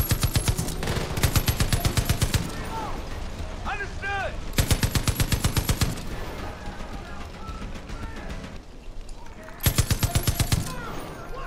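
Rapid bursts of automatic gunfire during a firefight in the video game Far Cry 5, loud repeated volleys with scattered shots between them, mixed with game noise and some talking.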